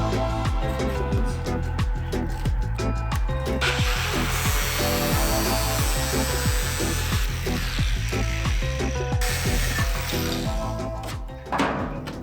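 An angle grinder cuts a small corner out of metal on a truck during a CAT engine swap into an OBS pickup, a loud continuous whine with rhythmic surges and pitch shifts, winding down near the end.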